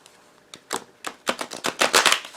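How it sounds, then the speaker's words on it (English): A new tarot deck being riffle shuffled, giving a run of quick papery flutters that build into a dense, crisp ripple of card edges, close and fairly loud with no talking. "I thought they might be more difficult to riffle shuffle"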